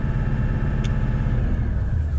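A car engine is held at around 2000 RPM, giving a steady, close mid-pitched rumble that stays even throughout with no talking.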